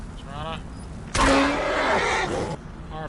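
Horse neighing in the video game Skyrim, one loud, close whinny lasting over a second, with faint voices before and after.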